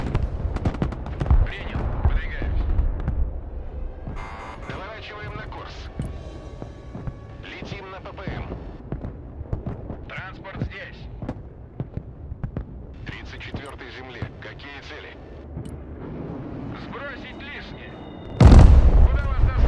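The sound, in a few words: gunfire and artillery in Broken Arrow video game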